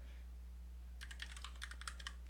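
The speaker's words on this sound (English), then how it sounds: "let's type a URL" Someone types a web address on a computer keyboard, a quick burst of crisp key clicks about a second long that follows a moment of quiet room hum.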